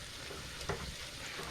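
Spices and garlic frying in a pan and being stirred, a steady low sizzle throughout with a brief louder scrape midway, heard alone at close range.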